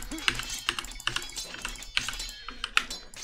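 Quick keyboard hotkey presses and mouse double clicks for control groups in Age of Empires II, a series of sharp, close clicks in small clusters with a steady rhythm.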